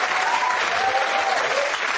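Studio audience on a daytime talk show applauding, a dense, steady wash of many hands clapping at close range, with no break for its full length.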